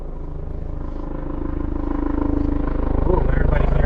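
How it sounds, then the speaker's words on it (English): An LAPD helicopter flies overhead, its low rapid rotor chop pulsing steadily and growing gradually louder, a thick drone heard close and dominant. "everybody hearing that helicopter?"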